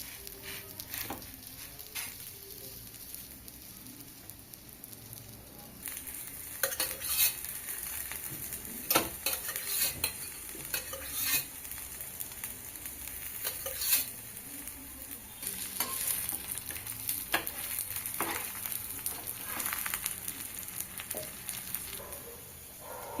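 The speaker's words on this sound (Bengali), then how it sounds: "তাওয়াতে সেঁকতে দিয়ে দিয়েছি" Onion paratha roasting on a hot tawa, a soft steady sizzle with intermittent scraping and light clinks of a spatula against the pan, fairly quiet and without voices.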